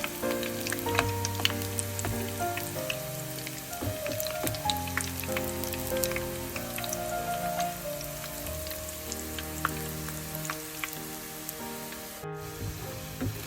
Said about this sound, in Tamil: இப்போ கட்லெட் வந்து நல்ல பொன்னிறமாக பொரிஞ்சிட்டுது.